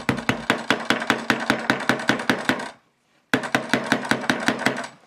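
A Nokia Lumia 920 smartphone struck repeatedly like a hammer, a rapid, steady run of loud close knocks that pauses briefly before resuming at the same pace.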